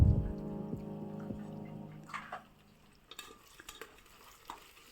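Vegetable soybean pulao with soaked green peas stirred in a pan, starting with a low hum that fades, then light scraping and soft clinks of a spoon over faint frying, close and quiet.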